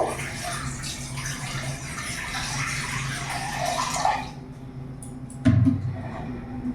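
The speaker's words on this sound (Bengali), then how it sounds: "কড়াইতে জল দিয়ে দেবো।" Water pouring steadily into a wok on a gas stove, a continuous rushing splash that stops abruptly near the end and is followed by a brief knock.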